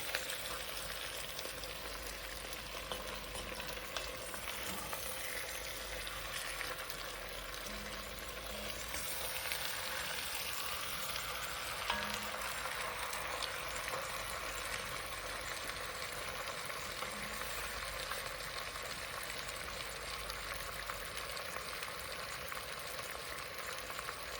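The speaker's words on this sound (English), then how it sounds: "And then I'll just mix this around with the onion and garlic mixture" Lamb browning in a pan with an onion and garlic mixture, a dense, steady frying sizzle that holds at an even level throughout, close and with no talk.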